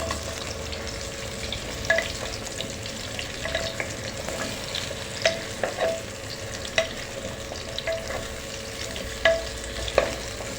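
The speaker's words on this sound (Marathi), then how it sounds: "एक दोन मिनटं परतून घेणार आपण छानपैकी दुधी काप" Slices of bottle gourd stir-fried in ghee produce a constant near sizzle, with repeated spoon scrapes and light clinks at irregular intervals over the frying noise, and no one speaking.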